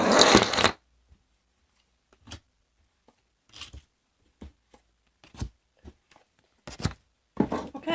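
A deck of tarot cards is riffled in a loud, close burst, followed by short, scattered slaps and swishes as single cards are drawn and laid down in quiet surroundings.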